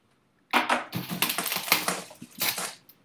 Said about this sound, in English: Johnny, make sure I write this down.